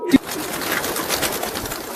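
Pet pigeons in a loft give a brief coo over a dense, steady backdrop of fluttering and ambient noise, with a sharp knock at the start.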